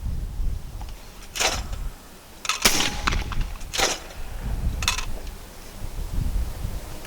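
Four sharp, loud shots from a Retay Gordion semi-automatic 12 gauge shotgun with a 3-inch chamber, firing Winchester rounds at an outdoor range. The blasts come at a steady pace about a second apart, with low background rumble between them.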